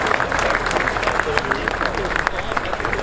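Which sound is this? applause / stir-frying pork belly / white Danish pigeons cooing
applause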